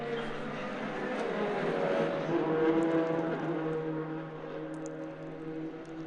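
A pack of touring race cars, including Audi, Acura, Hyundai and Honda models, streams past at Shannonville Motorsport Park, a blended engine drone swelling and then fading under continuous commentary.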